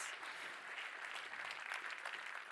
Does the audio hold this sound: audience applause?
yes